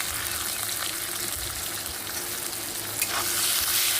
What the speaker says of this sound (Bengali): তো রসুনটা একটু একটু ভাজার পরে আমি দিয়ে দেব কিছুটা পেঁয়াজ